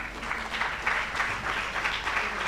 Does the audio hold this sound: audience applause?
yes